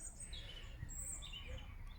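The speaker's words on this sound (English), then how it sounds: "Just listen to the birdsong here." Birds chirp and sing faintly in a Norfolk garden on an early spring morning, scattered high calls over a soft low background hum.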